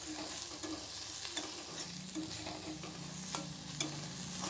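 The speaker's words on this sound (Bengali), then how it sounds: "কুমড়োর ফুল ভাজা হয়ে গেছে আর এখন আমি তুলে নেব" Pumpkin flowers fry in a pan with a steady soft sizzle, broken by occasional faint scraping stirs, no voices.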